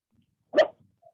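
A small dog gives a single short bark, fairly faint and alone, with a bit of quiet room noise around it.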